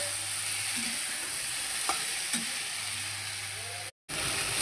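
Greens and brinjal (eggplant) being stirred together in a frying pan, with a steady sizzle and scraping strokes of the spoon close up, briefly cut silent near the end.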